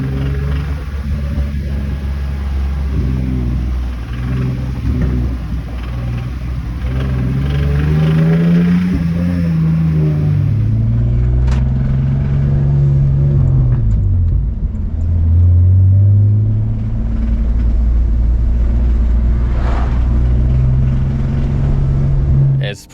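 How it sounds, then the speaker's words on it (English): A BMW E46 with an M54B30 inline-six runs with a developing rod knock, a steady low engine rumble holding throughout and swelling as it revs, with a person talking over it. "It's progressively becoming a rod knock."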